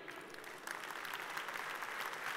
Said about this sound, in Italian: vi chiedo veramente un grandissimo applauso per introdurla